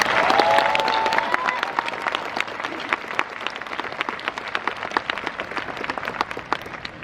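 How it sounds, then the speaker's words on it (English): A large crowd at a UCLA graduation ceremony breaks into sustained applause, dense clapping with individual sharp claps standing out. A brief whistle-like tone rises near the start. "Let's give you all a round of applause."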